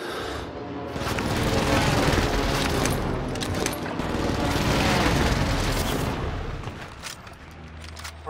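Precision airstrike explosions in the Call of Duty Rebirth Island mode, a sustained rumbling barrage of booms and crackling blasts that rolls on for several seconds at a loud, steady level with no talk over it.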